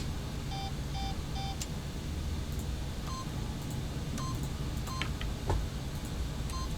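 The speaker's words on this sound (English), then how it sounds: "by simply pushing random buttons on the keypad, Stanley happened to input the correct code by sheer luck" Keypad buttons in The Stanley Parable beep as a code is entered: three quick evenly spaced tones, then a scattered series of short electronic beeps at varied pitches over a faint background hiss.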